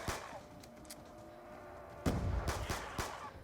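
Gunfire from a 5.7 gun in a round-based zombie video game: a handful of sharp shots, sparse at first and then a clustered burst near the end, fairly loud over a steady game background.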